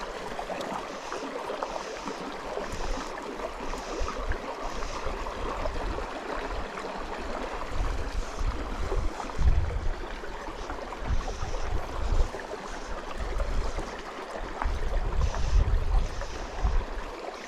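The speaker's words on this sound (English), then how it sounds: "It's a lot narrower stream up here." A narrow stream at Cherrybrook flows steadily with a continuous close rushing and babbling, while gusts of wind buffet in low rumbles now and then.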